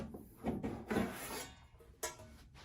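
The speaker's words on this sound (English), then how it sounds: "After removing the screws, we're gonna lift up the case." Plastic case of a Zebra ZT400 industrial label printer lifted off after its screws are removed, giving a few close, soft scraping and rubbing knocks with a sharper clack near the end.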